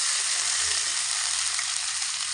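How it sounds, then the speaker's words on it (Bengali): Ginger and garlic paste hitting hot oil with dried red chillies and whole cumin, giving a loud, steady, close sizzle that lasts throughout with no talking. "শুকনো লঙ্কা জিরে লাল লাল করে ভাজা হয়ে গেলে এবার দিয়ে দিচ্ছি আদা বাটা করা রসুন"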